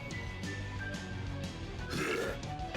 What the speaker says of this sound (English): I would say that's an accurate description for that sound, is a near belch